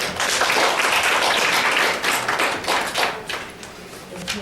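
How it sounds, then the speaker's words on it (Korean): An audience at a Korean public forum on abolishing the disability grading system claps for about four seconds, a dense crackling applause that fades slightly toward the end. "여러분 박수로 맞아주십시오."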